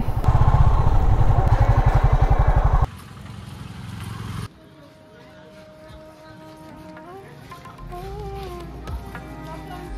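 A motorcycle engine runs loud and close for a few seconds, then cuts out while parking near a temple gate in Puri, leaving quieter surroundings with distant voices.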